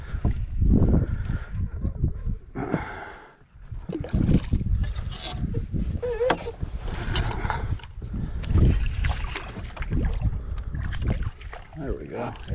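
A fishing boat's outboard motor runs steadily at night while frogging on the water, a continuous close rumble with splashes and movement over it.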